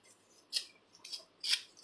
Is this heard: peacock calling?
no